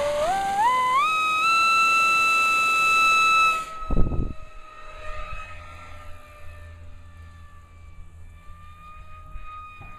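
A fast electric RC pylon racer with a 4.2x4.0 APC propeller, 2200 mAh battery and Castle 54 speed controller whines up to a piercing high pitch, then cuts off. A thump and wind noise follow as it flies on, the motor tone continuing more faintly.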